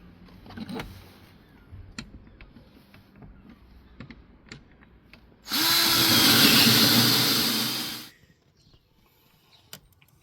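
A power drill cuts a hole through a wooden floor for a diesel heater install, whirring loudly for about three seconds, close by, between quiet stretches of small clicks and handling noises.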